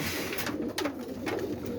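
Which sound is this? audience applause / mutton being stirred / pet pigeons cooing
pet pigeons cooing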